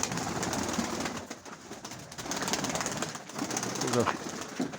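Mykolaiv pigeons cooing and flapping their wings as they are let out of a loft, with soft coos and rustling wingbeats under a steady outdoor murmur while people talk nearby.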